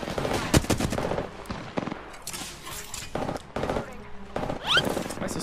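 Rapid gunfire from the video game Apex Legends: dense bursts of automatic shots pile up close and loud almost without pause, with an excited voice shouting over the battle.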